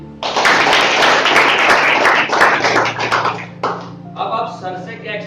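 A room full of listeners claps for a teacher at a talk, a dense, loud burst of applause lasting a few seconds, then thinning as a voice speaks over the fading claps.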